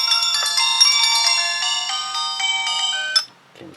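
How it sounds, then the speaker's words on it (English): A home phone rings loudly and close, a melodic electronic ringtone of rapid repeating tones for about three seconds before stopping abruptly; the call comes from a GV18 Aplus smartwatch. "If I call my home phone, okay, I'm going to call my home phone now."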